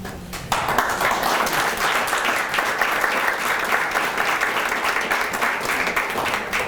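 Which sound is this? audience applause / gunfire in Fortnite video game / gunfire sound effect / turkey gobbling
audience applause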